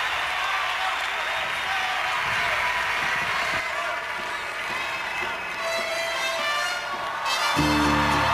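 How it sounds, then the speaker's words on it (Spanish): Loud, sustained clapping from a large concert audience fills the room, with cheering voices mixed in and a shift toward music and talk at the end. "¡Aplausos!"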